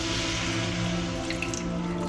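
Water running steadily into a pan of semolina and vegetables, a continuous trickling pour close by with no talking.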